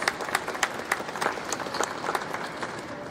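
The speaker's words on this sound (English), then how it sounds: "If we could give them a round of applause." Modest applause for the Benedict College Tigers at a football media day awards presentation, quiet and somewhat distant with scattered individual claps.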